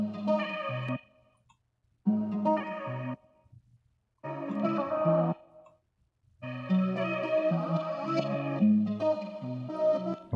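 Music with added gain, reverb, compression and distortion plays in four bursts separated by short silences, the last passage longest, with dense layered tones and a thick, processed, effect-heavy texture.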